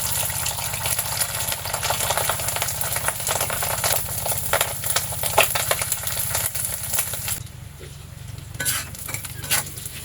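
Fish roe frying in a pan for a carp curry gives a loud, dense, steady sizzle with crackling oil. Stirring scrapes run through it, and the frying drops to a quieter hiss near the end.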